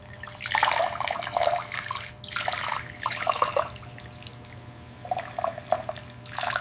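Liquid pours into a cup in several separate bursts, a close, splashing trickle with short pauses between pours and a low steady hum underneath.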